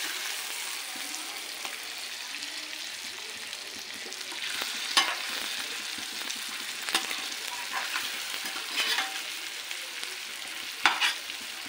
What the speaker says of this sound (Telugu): సిమ్లో పెట్టుకొని వేయించుకుంటే